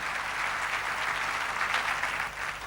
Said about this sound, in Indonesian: Kita beri tepuk tangan terlebih dahulu untuk The True Worshipers Production.